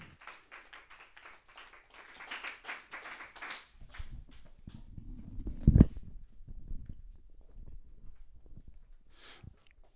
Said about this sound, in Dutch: Een daverend applaus.